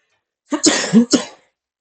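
A single person coughs a few times in quick succession, close and loud, with a throaty, rasping edge and silence on either side.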